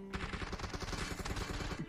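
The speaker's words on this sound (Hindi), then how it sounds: "लेफ्ट राइट से भी गोलियां चल रही है" Rapid bursts of gunfire crackle continuously, dense overlapping shots like automatic weapons in a game, fairly loud with no talking.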